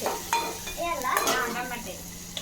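Tomatoes tipped into a hot pan in a mini kitchen, a soft sizzle with spoon scrapes and light clinks of stirring, close by, while children talk over it.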